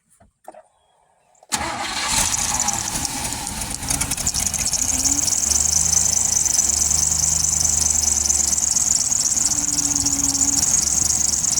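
A 2000 GMC K2500 truck engine cranks after a short quiet lull, catches abruptly and settles into a loud, steady running rumble with a faint high whine on top.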